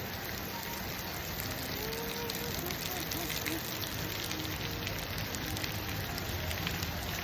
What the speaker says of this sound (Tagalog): Yan o, lakas ng ulan.